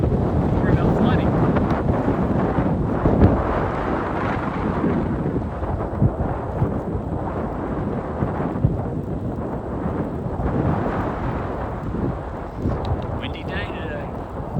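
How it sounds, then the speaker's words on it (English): Steady, loud wind rumbles and buffets the microphone throughout, a broad roaring wash with gusty low-end thumps and no clear voices. "Windy day today. Windy day."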